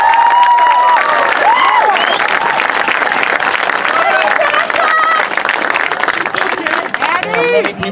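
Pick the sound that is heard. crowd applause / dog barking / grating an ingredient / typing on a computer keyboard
crowd applause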